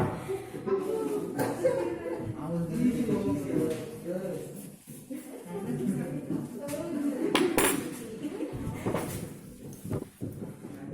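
A solution with solids at the bottom is stirred in lab glassware during a school titration, light clinks and taps of glass sounding under near-continuous classroom talk.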